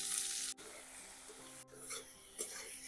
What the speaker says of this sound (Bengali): এখন আমি তেল দিয়ে পেঁয়াজ, কাঁচা লঙ্কা, টমেটো ভাজা করে নেব